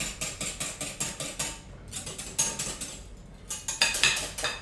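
Chocolate being whisked into a mixture in a bowl for chocolate pots, with a rapid, steady clinking and scraping of the whisk against the bowl, close and fairly loud, broken by a brief pause midway.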